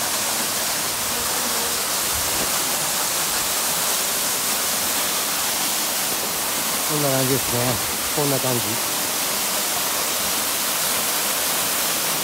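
A powerful waterfall in Ogose, Saitama, Japan roars with a steady, dense rush of water, while voices speak briefly over it.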